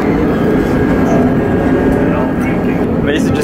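Loud continuous rumble and rattle of a moving train heard from inside the carriage, a steady dense roar with faint voices mixed in.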